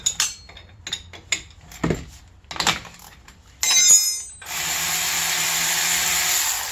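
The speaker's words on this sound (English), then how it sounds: "Now we need to peel off the caliper bolts. Sometimes you'll have to use a wrench with them," A wrench works the front brake caliper bolts on a Chevy Equinox, with close metallic clinks and taps, then a short scrape and a steady mechanical whir to the end; no one speaks.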